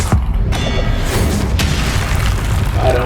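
Explosive Confringo spell blast in Hogwarts Legacy, a loud boom opening with a sharp hit and rumbling on over sustained game noise.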